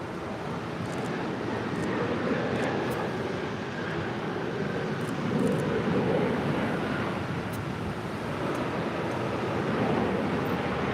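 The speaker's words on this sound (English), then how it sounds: "We also have Asiana Cargo, another 747-400 lighting up here on the south side" An Asiana Cargo Boeing 747-400 at LAX runs its engines with a steady, broad jet roar from some distance, mixed with wind noise hitting the microphone.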